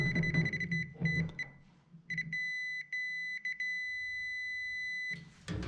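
A multimeter's continuity tester beeps on a bolt of an Oliver tractor's dash, a steady high tone broken into short stuttering bursts and longer holds, close and clear with low handling noise early on.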